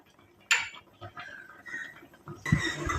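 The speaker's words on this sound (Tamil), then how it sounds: "இப்போ ஒரு மூடியை போட்டு மூடி வச்சிடலாம்" A lid is set onto a container of homemade one-ingredient hair dye, giving a sharp close clack followed by a second clattering knock, with quiet handling noises between.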